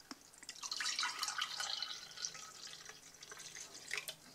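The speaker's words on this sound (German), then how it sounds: "Okay, wir mal eingießen." Hot Americano made from five espresso shots with water being poured, a faint trickling, splashing liquid stream with small drips, quiet and close, without talk.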